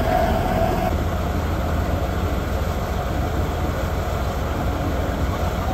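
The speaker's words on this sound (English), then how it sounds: "The train we'll be riding is a narrow gauge" A steady, loud rumble of a narrow gauge train on the Maine Narrow Gauge Railroad in Portland, with a constant rolling roar and faint rattling throughout.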